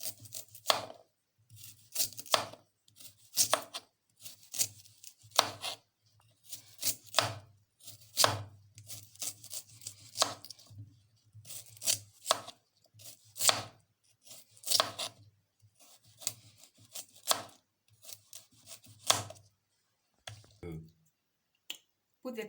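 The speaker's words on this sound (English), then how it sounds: "Slice your carrots too." Carrots are sliced with a knife on a board, with crisp close chopping clicks arriving in irregular bursts and short pauses, faint and intimate; some quiet talk is also present.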